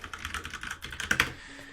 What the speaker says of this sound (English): if I'm typing a bunch of characters